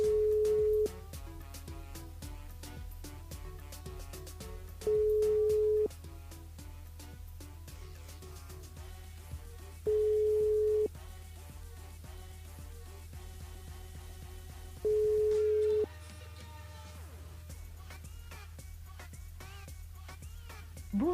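A telephone ringing tone sounds while a radio host calls a listener: a steady beep of about a second repeats four times at even five-second intervals over a constant low hum, with no voices.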